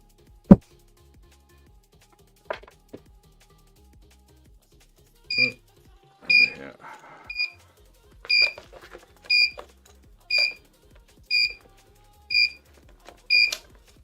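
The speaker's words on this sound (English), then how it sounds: "I don't know if you can hear that beeping." An electronic alarm beeps in a regular pattern of short double tones, about one per second, clear and close, after a few scattered clicks and knocks in an otherwise quiet room.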